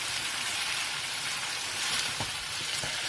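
Chicken pieces sautéing in a pan, a steady bright sizzle of hot fat with a few soft scraping knocks as the meat is stirred and turned.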